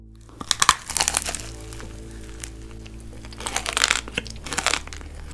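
Crispy puffed rice cakes and dried pasta treats being bitten and chewed up close, with bursts of crunching and crackling in two clusters separated by a quieter stretch under a faint steady background tone.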